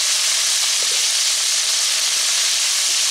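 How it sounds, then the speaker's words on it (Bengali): Long beans frying in hot mustard oil, a steady, loud, close sizzle with a dense spattering hiss that runs unbroken from start to finish, with no talking. "এবার তেলের মধ্যে বরবটিগুলোকে আস্তে আস্তে ছেড়ে দিচ্ছি খুব সাবধানে"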